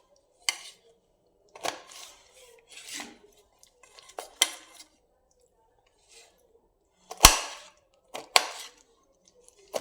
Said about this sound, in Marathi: याचे असे काप करून घ्यायचे.